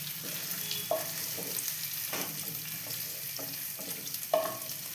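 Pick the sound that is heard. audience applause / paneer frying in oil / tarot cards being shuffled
paneer frying in oil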